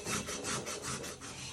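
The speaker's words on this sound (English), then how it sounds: "we've had about 30 minutes of sanding on this particular glass" Sandpaper rubbed by hand against the edge of a drinking glass in a home craft session, a steady gritty scraping in repeated back-and-forth strokes, close and fairly loud with no talking.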